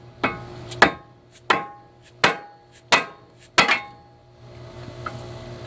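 Hammer blows striking a Kia Soul CV axle to free it, about seven sharp metallic whacks in an uneven rhythm, close and loud, with short ringing decays between hits.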